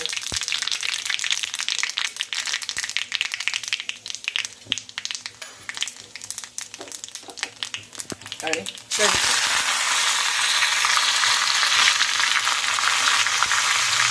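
Mustard seeds hit hot oil for a tempering, a steady bright sizzle that jumps sharply louder and denser partway through, close and continuous, with scattered crackles and kitchen clatter before the surge.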